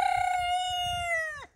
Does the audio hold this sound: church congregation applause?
no